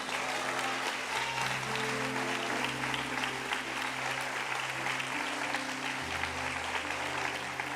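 Congregation applause at a Brazilian evangelical church service, steady dense clapping sustained throughout under a constant hum of sound system tones, fairly distant and even in level.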